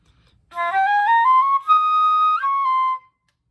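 A solo flute runs quickly upward in a stepped triplet run, then settles into longer held tones that drop at the end; no voices.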